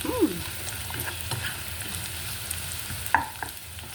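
Sausage pieces frying in a hot pan, a steady soft sizzle running throughout with occasional clinks and scrapes of stirring, close and moderately loud with no talking.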